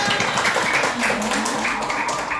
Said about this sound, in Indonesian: Tepuk tangan, Nela